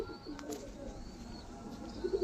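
Allahabadi Chiniya pigeons coo softly in a steady, low murmur, with a few fuller throaty coos rising near the end, close by and otherwise free of talk.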